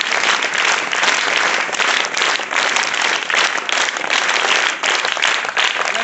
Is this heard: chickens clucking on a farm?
no